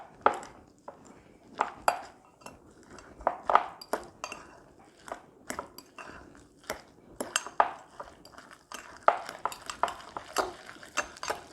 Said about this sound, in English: And then I'm just going to mix this all up.